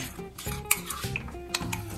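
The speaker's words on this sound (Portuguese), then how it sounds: "E misturo tudo." Spoon stirring yogurt and honey in a bowl, producing a few quick scraping strokes and light clinks of metal against the bowl, close and quiet, with no voices.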